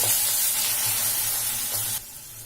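Onion sautéing in a pan with ground dried chili and garlic over a low flame, a loud, close, dense sizzle with faint stirring that drops sharply to a quieter hiss near the end, no voices.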